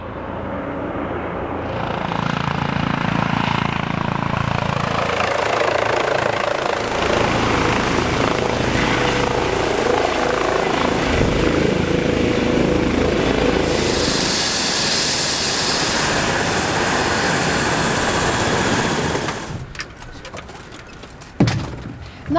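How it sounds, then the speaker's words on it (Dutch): A new Erasmus MC trauma helicopter roars loudly and continuously with a dense whirring rotor and turbine wash, gradually fading near the end before a brief clunk. "Het traumacentrum van het Erasmus MC heeft sinds kort een nieuwe traumaheli."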